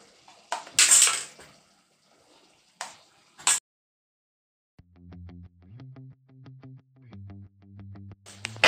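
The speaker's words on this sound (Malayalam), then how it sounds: "എല്ലാം നന്നായിട്ടൊന്ന് മിക്സ് ചെയ്ത് മസാലയും കൂടി നന്നായിട്ടൊന്ന് വേകുന്ന വരെ നമ്മൾ മിക്സ് ചെയ്ത് കൊടുക്കും" Chicken already coated in masala paste, with coriander powder added, is stirred and scraped in a pan for chicken chukka: a few clattering strokes close by, followed by a stretch of background music.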